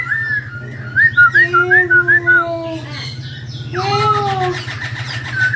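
A songbird at a bird shop behind Pasar Pramuka market mimics a cat's meow with whistled, sliding calls over a steady low hum, repeating several times with short pauses.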